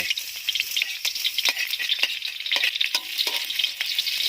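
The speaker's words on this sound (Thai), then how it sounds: "น้ำมันแดงลงไป ที่กระเทียมลงไป" Garlic frying hard in red chili oil in a wok, a steady bright sizzle with repeated clatters of a utensil stirring against the metal, close and loud.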